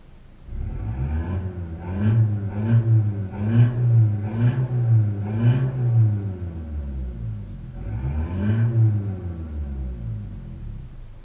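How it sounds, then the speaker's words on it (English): A Mitsubishi L200 pickup truck engine revs through its exhaust, about six quick rising blips in a row, a pause, then one more rev, close and loud with a low rumble between. "should I do a rev it up? See how it comes out the exhaust."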